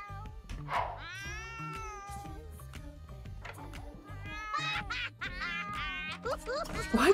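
A cat gives repeated drawn-out meows and caterwauling cries, close and clear, while people talk and laugh in the background.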